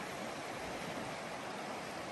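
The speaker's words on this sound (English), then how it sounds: "the noise of that water running all night can actually be, this one's kind of loud." Rushing river water on a creek in Idaho, a dense steady broadband wash, fairly faint and continuous with no voices.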